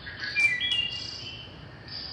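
Wood thrush singing, a few clear fluting phrases with a quick trill, fairly near and alone over a quiet background hiss.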